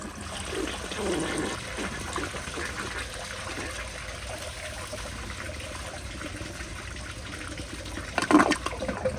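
A 1965 Kohler Barlow toilet on a 1.6 flushometer at weak pressure flushes close by with a steady rush of water that carries on for several seconds, fades to trickling and refilling, and ends with a brief gurgle.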